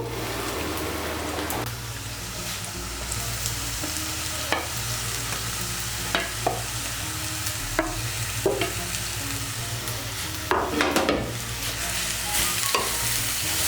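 Grated taro stirred into hot oil with browned onion in a pan, a steady sizzle under repeated scraping strokes of a spatula, close and moderately loud.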